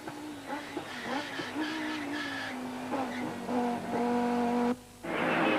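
Onboard a Rothmans Audi race car at speed at Killarney in 1993, the engine drones steadily and shifts pitch through gear changes, with a brief dip before it surges loudly again.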